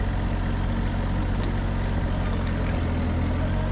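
Snow plow truck at night climbing a steep road in low gear with the diff lock engaged, its diesel engine throttling up to a steady, loud, close rumble that holds without a break.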